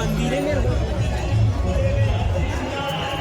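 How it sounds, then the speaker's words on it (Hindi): Large festival crowd at Bhoramdev Mahotsav 2025 near a lake with boating, a steady close babble of many voices and hubbub, with a nearer speaker talking over it. "यहाँ पे भी बहुत ज्यादा भीड़"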